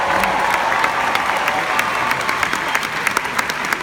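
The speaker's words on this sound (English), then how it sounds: "a big round of applause" A room full of people at a business seminar breaks into hearty applause, dense clapping with a few louder individual claps standing out and faint crowd murmur underneath.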